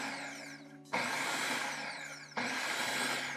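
A blender pulses a cilantro mixture for cilantro shrimp: two loud whirring bursts kick in abruptly, each slowly settling in pitch, with a quieter motor hum between them.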